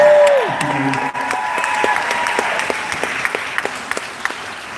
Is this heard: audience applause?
yes